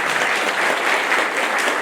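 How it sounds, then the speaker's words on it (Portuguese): An audience at a round-table discussion on "O Livro dos Espíritos" gives a steady round of applause, moderately loud and evenly sustained throughout. "merece uma salva de palmas por ter pensado isso aqui"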